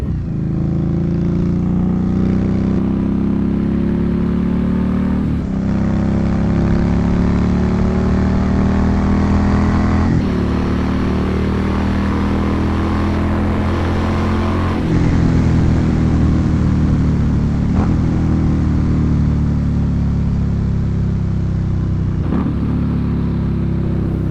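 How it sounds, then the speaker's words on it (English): A steady motorcycle engine rumbles continuously close by, with a few shifts in pitch as it revs up and settles, and no talking. "How'd the engine sound, guys?"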